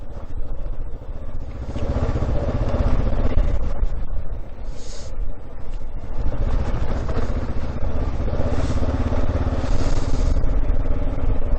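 A Kawasaki KLR motorcycle rides through a burnt area in New Mexico, its engine a continuous close drone with rough clattering over uneven ground and no breaks.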